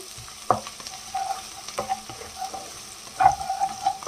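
Ingredients browning in a frying pan for sautéed baby kailan with salted fish, giving a low steady sizzle broken by a few sharp utensil scrapes and stirring clatters near the start and end.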